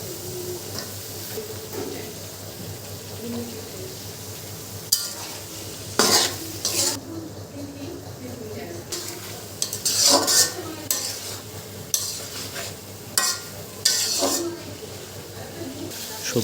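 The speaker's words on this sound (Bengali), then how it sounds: "এখন আমরা আমাদের পছন্দ মতো সবজিগুলো প্যানে দিয়ে দেব এবং ভালোভাবে সকল কিছু মিশিয়ে নেব।" Vegetables stirred and mixed in a frying pan with dried fish, a continuous close sizzle punctuated by sharp scrapes and clinks of a utensil against the pan, with a voice speaking over it.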